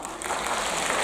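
Brief applause from a live comedy show audience in Kawaguchi, a short dense spatter of clapping that swells slightly over about a second.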